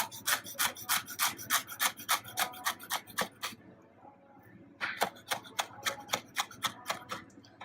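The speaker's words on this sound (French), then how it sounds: "Je vais venir prendre un petit bouquet de coriandre. C'est pareil, on va la hacher." Knife chopping a small bunch of fresh coriander on a board, cut fairly coarse: rapid, even crisp strokes in a steady run, a short pause, then another quick burst, close and distinct with no talking.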